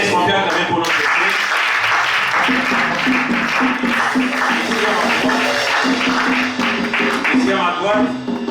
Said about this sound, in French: Est-ce qu'on peut acclamer pour notre frère?